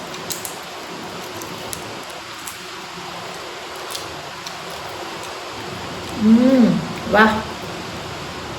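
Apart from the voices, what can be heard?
rain getting heavier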